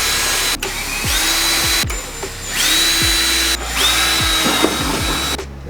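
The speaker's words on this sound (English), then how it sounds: "Let's drill them out." Power drill boring holes for a roll bar mount in the interior of an LS1-swapped E36, loud sustained whine in several bursts with brief pauses between, no talk.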